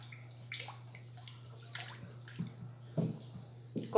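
Homemade liquid soap mixture being stirred in a container, with intermittent wet sloshing and swishing strokes at irregular intervals, close and fairly quiet over a low hum.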